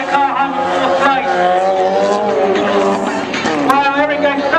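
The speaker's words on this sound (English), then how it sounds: "Andrew's trying to get a Honda Civic to do a donut" A Honda Civic spins donuts at a two-wheel-drive event at Pikes Peak International Raceway, its engine droning steadily with rising and falling pitch and tires squealing. The car is close and loud throughout, with a commentator talking over it.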